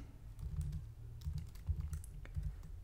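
Typing on a computer keyboard to enter a date, a quiet run of light, irregular key taps close by with no voices.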